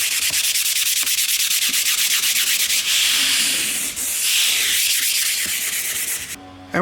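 Light sanding over a filled crack in a wall, a loud, continuous scratchy rubbing in quick, even back-and-forth strokes, close up and without talk, ending with a brief thump.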